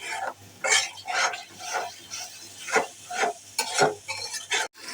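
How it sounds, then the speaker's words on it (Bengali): A spoon scrapes and stirs a spice paste with a little water in a pan for a tengra fish curry, giving repeated rhythmic scraping strokes over a low sizzle, close and alone. "এখন আমি আরেকটু পানি দিয়ে মশলাটা কষিয়ে নেব।"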